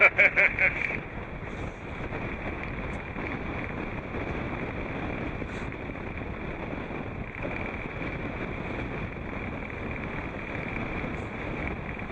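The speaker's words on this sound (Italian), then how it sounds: "non soffiare sul microfono per far sembrare che ci sia più vento" Steady rushing wind buffeting a microphone outdoors aboard a boat at sea, a continuous low roar with faint watery wash underneath.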